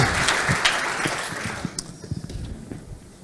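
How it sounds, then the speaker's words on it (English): A conference audience applauds a speaker on corporate culture at Uber, starting as a loud dense burst of clapping that thins and fades into scattered, separate claps. "an applause for Anouk inspiring us"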